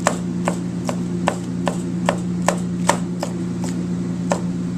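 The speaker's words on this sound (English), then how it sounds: "this is a julienne cut. So long, thin strips. And I'm just going to go all the way down the pepper." A knife julienne-cuts a pepper into thin strips on a board, about a dozen crisp, evenly spaced chops close by over a steady low background hum.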